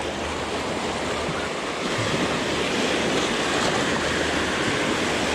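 Big wake waves stirred up by a passing boat on the Mississippi River wash steadily and fairly loud for the whole stretch, a constant rushing surf with no talk.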